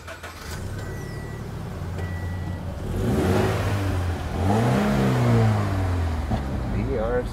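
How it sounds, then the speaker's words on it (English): A Subaru BRZ's flat-four engine starts and revs up twice, a low throbbing burble rising in pitch, with a voice briefly speaking near the start. "So it sounds like an outboard motor, as all flat fours do"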